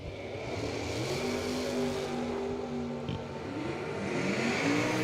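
A Camaro drag racing car accelerating hard down the strip, its engine note climbing and shifting in a loud, sustained roar with another vehicle's engine audible in the mix.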